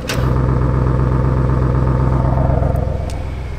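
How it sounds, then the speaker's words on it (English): An Audi RS7 idling in RS mode with its exhaust valves open, a deep, steady burble that holds loud and close, with a brief clatter at the start and no talking. "I'm gonna open up the exhaust and this is as loud as it's gonna get"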